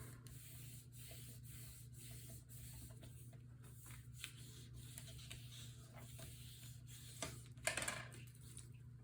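A score line on paper being burnished while building a mini album page: faint, quiet, repeated rubbing strokes with a few light taps, and no talk.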